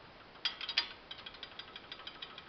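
An M1 Garand bolt rattling against a no-go gauge in a worn chamber during a rifle restoration: a few sharper metallic clacks, then a steady run of light, evenly spaced ticks, close and fairly quiet.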